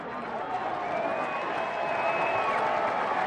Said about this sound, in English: There's some cheering on the sideline for Delaware